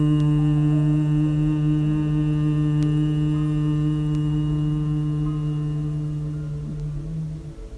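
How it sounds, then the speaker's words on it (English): Group chanting a long, sustained "hum" in a throat chakra meditation: a steady, droning voiced tone held for several seconds, near and even, slowly fading at the end. "Let's chant 5 times the hum sound."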